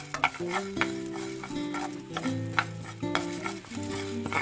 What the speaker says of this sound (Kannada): ನೆಕ್ಸ್ಟ್ ನಾನು ಮೂರು ಸ್ಪೂನಷ್ಟು ಧನಿಯಾ ಹಾಕೊತಾ ಇದ್ದೀನಿ ಸೊ ಇದು ಒಂದು ಹದಿನೈದು ಸೆಕೆಂಡು ಫ್ರೈ ಆದರೆ ಸಾಕು